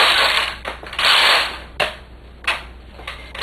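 Knitting is taken off a knitting machine with a garter bar, giving metallic rasping, ratcheting slides and a few sharp clicks in uneven bursts, close and fairly loud.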